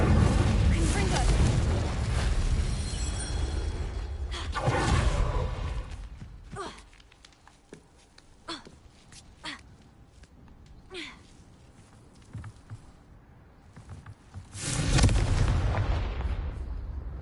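Fire blast spell explosions in the Hogwarts Legacy video game, roaring fiery bursts at the start and end, with sharp crackling impacts scattered between them.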